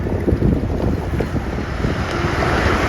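An engine boat ride on open water, with a constant broadband rush of wind, waves and hull noise buffeting the microphone throughout, steady and loud, with no voices.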